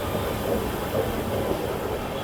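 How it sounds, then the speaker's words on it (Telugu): An oncoming passenger train hauled by a WAP-7 electric locomotive, heard as a steady, continuous rumble of moving rail cars at moderate distance, with no voices. "అండ్ విజయనగరం నుంచి ఆల్రెడీ ఒక ట్రైన్ ఇటు వస్తుంది"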